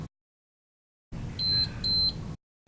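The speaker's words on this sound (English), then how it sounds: "you will hear the lock beep twice" A smart lock gives two short, bright electronic beeps close together while connecting to Wi-Fi, over a soft burst of noise, with silence before and after.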